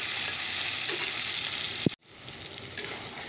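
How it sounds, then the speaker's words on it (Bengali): Tomato, onion, dried red chilli and nigella seeds fry in spiced oil in a pan, giving a steady close sizzle broken by one short clunk midway. "তো চলো আস্তে আস্তে মশলাটাকে কষিয়ে নিই।"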